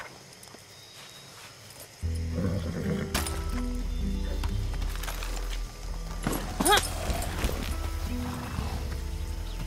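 A ridden horse in the video game Far Cry 6 moves along with scattered hoof clops and tack clinks under a steady low droning background hum that starts abruptly and continues throughout.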